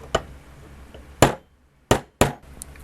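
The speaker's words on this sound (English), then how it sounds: "my next task is to pound the extractor back into place" Four sharp metallic hammer taps ring out, close and irregularly spaced, as a Browning Double-Auto shotgun bolt extractor is pounded back into place on a quiet bench.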